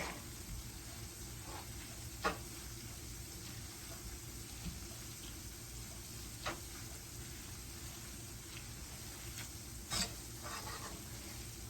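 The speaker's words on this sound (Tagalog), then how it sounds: "ganito po ako magluto ng fried garlic" Garlic frying in oil for crispy fried garlic, a faint, steady sizzle with a few soft clicks and taps from stirring, heard at low volume.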